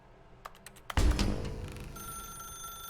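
An old-style telephone bell rings in The Stanley Parable: Ultra Deluxe, a quick burst of clattering rings followed by a louder sustained jangle that fades into a lingering tone.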